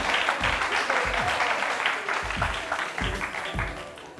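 Audience applause fills the space as a steady, dense wash of clapping, with a few voices mixed in underneath.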